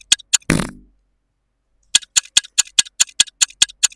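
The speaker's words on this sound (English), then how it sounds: "We've made ourselves a ticking fart bomb." A ticking fart bomb from a soundboard app: a few crisp ticks, a short loud fart, a pause, then a rapid run of evenly spaced ticks.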